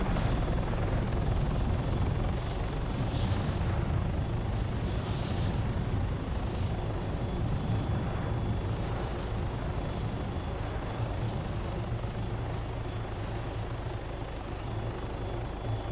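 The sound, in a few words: helicopter flying fast over city in Arma video game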